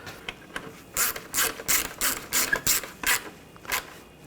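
A hand ratchet tightens intercooler bolts during a radiator job on a 2013-2022 Buick Encore 1.4L, giving about a dozen crisp, close clicking bursts in a fairly regular rhythm with short pauses between them.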